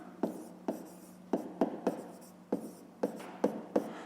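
Pen writing by hand on paper during a fifth-grade maths exercise, a series of short scratchy strokes in bursts with brief pauses, close and fairly quiet, no talking.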